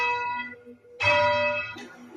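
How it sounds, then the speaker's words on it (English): A church bell at St Nicholas Church in Carrickfergus, rung by pulling its rope, sounds in two strokes: a sustained ringing tone that fades, then a second louder strike with a rich, shimmering decay, close and without talking. "So that bell is coming down."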